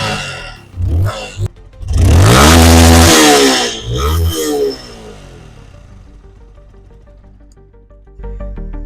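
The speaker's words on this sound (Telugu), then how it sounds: "మీకు కావాలంటే నేను ఇంజన్ బీటింగ్ కూడా వినిపిస్తాను" A Yamaha R15 v2 motorcycle engine is revved hard in a few loud, rising bursts close by, then drops back to a quieter idle before another short rev at the end.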